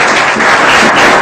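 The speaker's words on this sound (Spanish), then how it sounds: "Aplausos, por favor." An audience at an academic book presentation for an arbitration library volume applauds, dense steady clapping filling the hall, loud and continuous for the whole short stretch, with no voices over it.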